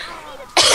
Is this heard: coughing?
yes